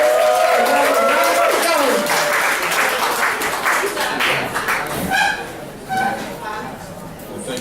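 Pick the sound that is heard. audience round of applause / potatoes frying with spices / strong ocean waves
audience round of applause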